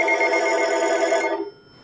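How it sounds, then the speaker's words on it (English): A British telephone, one of several set to ring at once, sounds a loud, continuous trilling bell tone that stops abruptly near the end, leaving a faint background hum. "Great Brit phone ringing from England."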